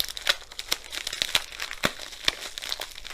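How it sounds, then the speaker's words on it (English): A paper envelope holding a diamond painting kit is torn open, giving scattered crinkling and tearing rustles with several sharper rips, close and moderately loud, with no voices. "The only way that we can find that out is by opening the envelope."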